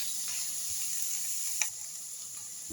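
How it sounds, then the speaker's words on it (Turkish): Ground beef sizzles steadily in a pan with fried peppers, tomatoes and onions, a continuous close frying hiss with a brief stirring scrape partway through. "Kıymayla beraber tekrar kavuruyorum."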